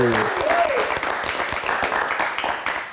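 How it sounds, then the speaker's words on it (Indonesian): A studio audience at a live Indonesian talk show breaks into sustained, dense applause that stays loud and even, with a brief voice at the start. "Tepuk tangan dulu dong, biar semangat lagi."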